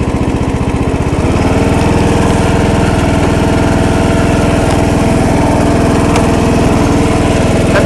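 A John Deere lawn tractor engine runs loud and close, a steady buzzing drone with a brief shift early on as it starts moving, then holding an even pitch while driving, with no voices.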